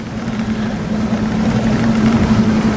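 Boston Whaler motorboat idling at about 1,000 RPM with the drive trimmed all the way in, a steady low engine hum on the water, close and continuous with no talk.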